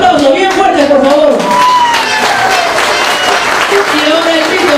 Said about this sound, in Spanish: Vengan los aplausos bien fuertes